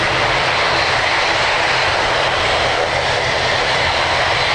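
An ATR turboprop airliner at Birmingham airport gives a loud, continuous engine roar that holds steady for the whole stretch, with no voices over it.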